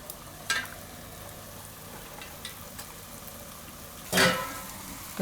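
Soya chunks fry in a pan with cluster beans and potatoes for a Gujarati shaak, a soft steady sizzle broken by a brief spoon scrape early on and a louder, longer stirring scrape near the end, with no talking.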